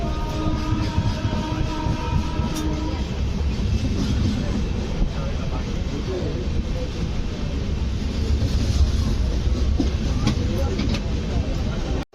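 An express train rumbles steadily into Kazipet Junction, a continuous loud roar of rails and wheels heard close from on board, with a brief tonal hum early on and no clear talk.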